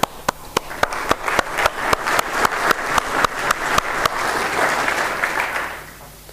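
Conference audience clapping loudly, with dense applause swelling and then fading out over several seconds, and no talking.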